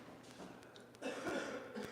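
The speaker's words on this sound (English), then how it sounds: "Don't be coming over here coughing," A few quiet coughs and throat-clearing sounds, a short burst of rougher coughing near the end.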